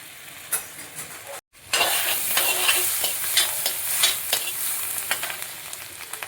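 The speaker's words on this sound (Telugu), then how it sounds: "ఇదిగోండి ఫ్రై అవుతుంది కదా, ఆనియన్ అండ్ గార్లిక్ ఫ్రై అవుతుంది కదా" Onion and garlic fry in a hot pan, a steady close sizzle with repeated scraping stirs through a short sandwich-filling preparation, broken by a brief silent gap near the start, with no one talking.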